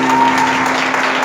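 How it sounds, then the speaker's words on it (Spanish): Brief burst of steady, dense applause from a church congregation during a Spanish-language service, filling the room without speech. "Un aplauso fuerte a Jesús"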